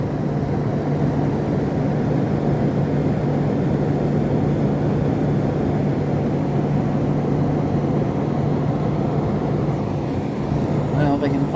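A Rotorex compressor, made in the USA, runs smoothly inside a Fedders window air conditioner: a steady low hum with a constant drone that holds evenly throughout, fairly close, with a brief clatter at the very end.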